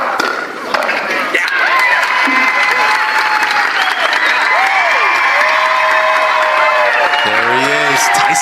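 A crowd applauds and cheers at a professional pickleball match between Ben Johns and Tyson Mcguffin at the Atlanta Open, a steady wash of clapping with swells of cheering throughout and a brief vocal shout near the end.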